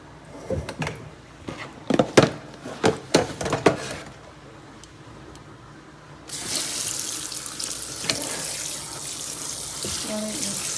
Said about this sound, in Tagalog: See all the salt, but we're gonna wash it with cold water.